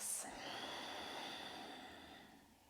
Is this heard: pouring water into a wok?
no